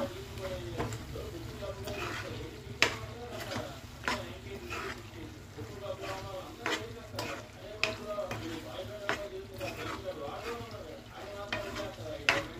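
Crushed small onions are stirred in a frying pan of cucumber and salted fish curry, giving a rhythmic scraping of the spoon against the pan over a soft, steady sizzle, close up, with occasional quiet talking.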